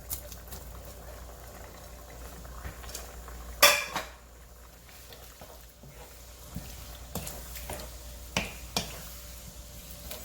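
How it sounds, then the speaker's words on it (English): Blanched vegetables for lad na noodles hit a pan and are stir-fried, giving a soft bubbling sizzle punctuated by a few sharp metallic clanks of utensil against pan, fairly quiet overall. "We're going to add in our blanched vegetables"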